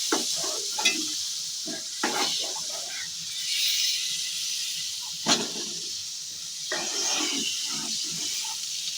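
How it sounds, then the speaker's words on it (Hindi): Spices tempering in hot oil sizzle and crackle with a steady hiss, punctuated by sharper spattering bursts, close by. "इसलिए तड़का दे रहे हैं"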